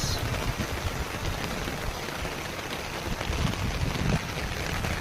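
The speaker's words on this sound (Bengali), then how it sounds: "দেখো আমাদের এখানে কি বৃষ্টি হচ্ছে, সব দিকেই বৃষ্টি হচ্ছে, বাতাস" Heavy rain with wind roars steadily on a rooftop, a dense, unbroken wash of close, loud noise with no talking.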